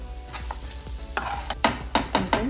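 A spatula scrapes and clanks through a ridge gourd and egg fry in a pan, striking in quick, close strokes over a soft sizzle.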